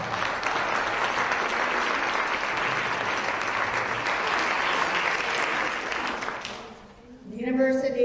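Sustained crowd applause at a charity dinner event, loud and even for several seconds before fading as a speaker's voice begins near the end.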